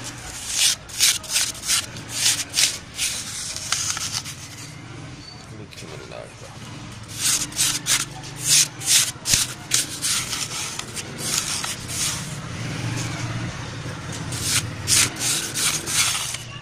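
Herbal ingredients for a kasturi-ambari capsule mixture being ground by hand rubbing, repeated rough scraping strokes in uneven bursts with short pauses, close and fairly loud, with someone talking underneath.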